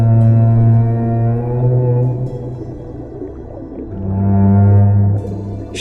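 Blue whale calling underwater, a long low moaning tone that slowly rises and falls, fades in the middle, then swells again, alone and fairly loud.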